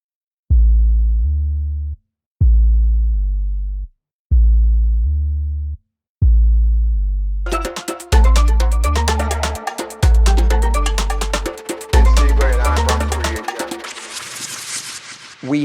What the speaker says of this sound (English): There's the 808.